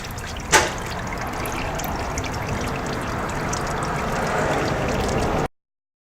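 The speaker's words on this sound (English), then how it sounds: "And we'll just let it drain out a little bit because it's a little bit hot." Hot automatic transmission fluid drains from a Ford BTR M74 four-speed gearbox in a steady, close pouring trickle that holds without a break for several seconds, beginning with a brief clank, then cuts off suddenly.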